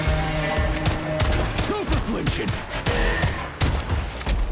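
Rapid bursts of gunfire from a weapon in the video game Atomic Heart, shots cracking out in uneven clusters over a steady game backdrop with electronic warbling effects in between.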